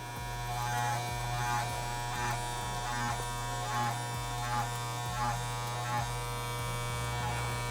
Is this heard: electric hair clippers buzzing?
yes